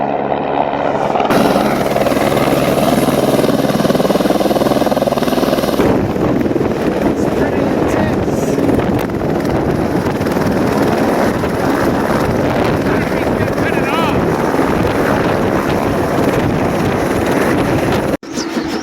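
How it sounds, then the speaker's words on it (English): Loud helicopter rotor noise roars continuously and close by as the helicopter lands, thick with wind rumble and chopping blades, before cutting off abruptly near the end. "our helicopter is here, and he's coming in to land."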